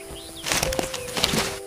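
Harris hawks flap their wings in a short flurry of several quick, close whooshing beats, along with faint background chirps.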